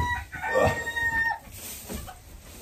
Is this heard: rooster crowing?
yes